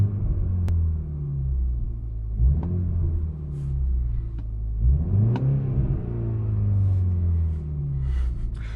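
Exhaust burble from a 2020 BMW 330i held around 3,000 RPM: a deep, loud, close engine drone that swells and dips in two rev sweeps, with sharp crackles and pops scattered through it.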